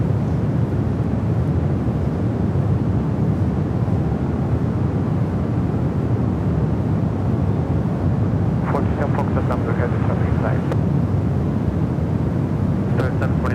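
Airliners land on San Francisco airport's 28 runways with a constant distant jet rumble and wind-like wash, and brief faint chirps appear near the end.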